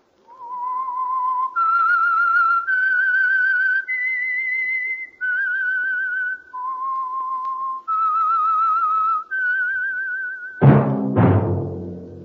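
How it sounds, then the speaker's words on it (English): A person whistles a slow tune of sustained notes stepping up and down, ending with a sudden loud orchestral chord that fades out, from an old radio drama. "That whistle is your signal."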